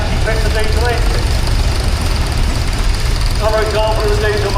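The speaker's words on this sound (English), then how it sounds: "one of them's fitted with a diesel engine" A diesel-engined Ford tractor, likely a Major, idles and chugs steadily in a showground arena at a steam rally, its low knocking rumble continuous beneath a loud announcer speaking over a public address.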